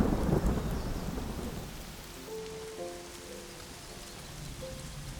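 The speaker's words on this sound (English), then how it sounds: "Moto hasn't found Nyota, but raindrops are falling, washing not only Nyota's traces, but Moto's" Rain pours steadily across the Serengeti, a dense hiss with a deep thunder rumble near the start, settling into an even patter of drops.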